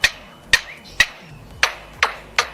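Six sharp, evenly spaced knocks with a slight metallic ring come from a lyrebird mimicking hammering, each strike followed by a quick decay, fairly close and alone.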